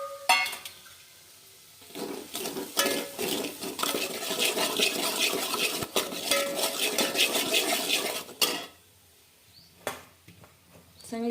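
Spices are being sautéed in hot oil in a pan for a home-cooked vegetable dish, a steady close sizzle with spoon stirring and pan clatter. The sound runs for about seven seconds, then quiets.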